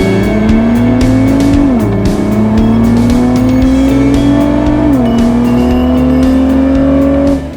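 A 2020 Ford GT Liquid Carbon sports car drives past at close range, its engine loud and steady, the pitch climbing through the gears with two clear drops at the shifts.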